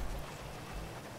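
Steady rain falls in GTA V, a soft, even patter and hiss with a low rumbling undertone, faint and continuous throughout the short stretch with no voices.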